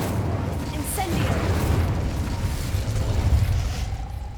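Incendio fire spell from Hogwarts Legacy erupts in a loud, sustained roaring whoosh with a deep rumbling boom underneath, holding steady for several seconds.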